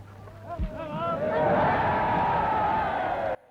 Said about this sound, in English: You heard the people cheering